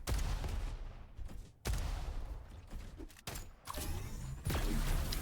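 Rapid gunfire in the arena shooter Diabotical, dense overlapping shots and weapon mechanisms in uneven bursts with brief pauses, moderately loud and continuous.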